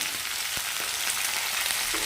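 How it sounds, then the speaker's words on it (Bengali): Cauliflower florets frying in hot oil in a wok for khichuri, giving a steady bright sizzle with a few soft stirring knocks, close and without voices. "আমি ফুলকপিগুলো কড়াতে ভাজতে দিয়ে দিলাম"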